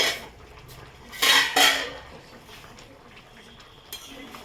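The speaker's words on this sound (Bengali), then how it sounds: "ঢাকটা আমি খুলে দিচ্ছি।" A metal lid is lifted off a pot of boiling potatoes, two sharp clanks of metal on metal close by, followed by quieter rattles and a faint clink in a quiet kitchen.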